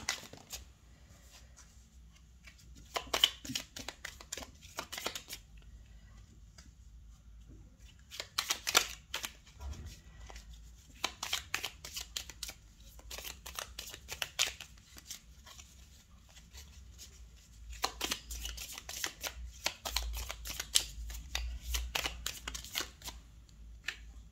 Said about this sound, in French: jusqu'à ce que je termine de tirer toutes les cartes